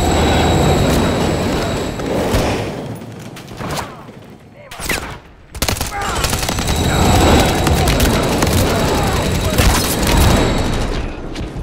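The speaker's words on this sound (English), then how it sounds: "Crossing, watch the train." Gunfire and booming mixed with the rumble of a passing train at a rail crossing during a Modern Warfare III campaign mission, loud and continuous with a brief lull midway, voices calling out over the battle.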